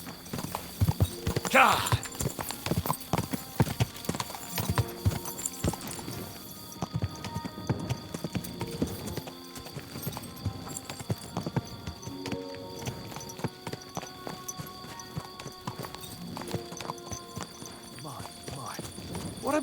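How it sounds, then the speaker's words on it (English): Horse hooves clip-clop steadily in the medieval game Kingdom Come Deliverance II, a rhythmic trotting beat close by, with a sharp shout and spoken voices over it. "What a beautiful horse."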